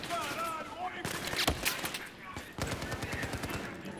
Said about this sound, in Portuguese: Tô escutando barulhinho de tiro.